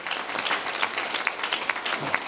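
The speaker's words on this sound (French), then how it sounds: "Ce jeune bédoulin, vous pouvez l'applaudir" An audience at a mayor's New Year's greetings ceremony in Roquefort-La Bédoule applauds a young local boxer, steady dense clapping filling the hall throughout at moderate loudness.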